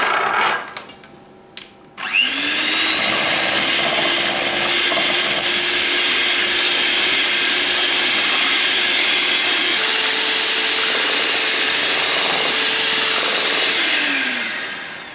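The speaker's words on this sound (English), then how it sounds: "you're beating the egg and the sugar, so you're gonna get this kind of texture" An electric mixer beats eggs and caster sugar for a vanilla butter cake. A few light clinks come first, then a loud, steady motor whir runs for about twelve seconds, shifts pitch slightly partway through, and winds down at the end.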